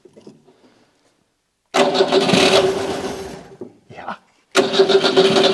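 Old car engine given a little added fuel, cranking briefly and catching into a rough running burst, stalling, then firing again, close and loud, with a short spoken word near the start.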